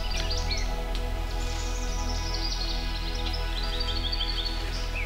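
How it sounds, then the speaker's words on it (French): Birds chirp and call in short, high bursts in dense forest on Kilimanjaro, set over a steady, loud low drone of background noise, with no talking. "On peut entendre des oiseaux, des fois des singes."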